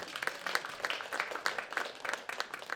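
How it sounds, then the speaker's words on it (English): Scattered applause from a small audience at a screening event, rapid uneven claps at moderate level with no talk over it. "round of applause for Derek"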